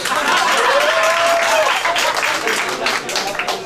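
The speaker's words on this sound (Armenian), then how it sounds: "Եկեք ծափահարենք փոքրիկ Հարութին" A studio audience applauds little Harut in a burst of dense, sustained clapping that stays loud and close from start to finish, with a few voices audible in the crowd.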